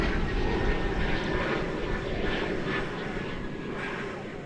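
An airliner at DFW Airport, such as an American Airlines Boeing 777, gives a broad, steady roaring engine rumble that fades slightly over several seconds, heard from a distance with no talking.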